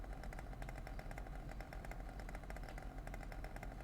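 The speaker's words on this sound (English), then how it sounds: "You got one hell of an engine sound coming from that moped. Sounds like a dirt bike." A moped engine in GTA San Andreas, buzzing like a dirt bike, a faint steady rapid rattling drone with regular pulsing throughout, heard alone.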